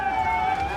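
An ambulance siren is caught in traffic. It rises and falls loudly and close, with steady tones over the rumble of the road.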